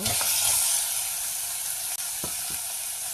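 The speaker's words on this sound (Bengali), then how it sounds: "পেঁয়াজগুলো নরম হয়ে গেছে, এখন আমি মাংসগুলো ঢেলে দিব।" Meat tipped into a hot pan of softened onions sizzles loudly, a dense close hiss of frying with a few stirring clunks, no voices.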